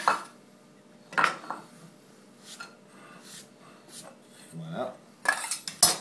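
A saucepan with olive oil and half an onion: scattered metallic clinks and clatters of pan and utensils, sharp and close, with quieter scraping between and a single brief spoken word.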